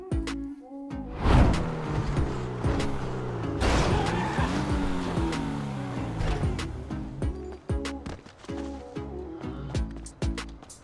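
A stolen car driven in GTA 5 Online, its engine revving up and down through gear changes with bursts of tire squeal and skidding, loud and close throughout.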